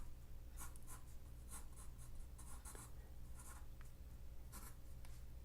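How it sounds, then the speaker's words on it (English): Pen or marker scratching on paper while a cartoon cat-spider's leg is drawn, giving quiet bursts of stroking and scribbling in short uneven runs over a steady low hum, with no talking. "now let's go ahead and draw his leg on this side"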